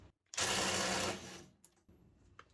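A cordless power tool with an 8 Ah battery loosens a bolt tightened to 190 Nm. It gives one close, loud whirring burst of about a second that quickly cuts off, followed by faint handling clicks.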